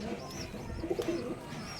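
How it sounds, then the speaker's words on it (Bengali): An Andhra Fulshira pigeon coos in a low, throaty run of notes at close range, with a soft warble over continuous background noise and faint bird chirps. "এটা হচ্ছে আমার অন্ধ্রা ফুলশিরা পায়রা"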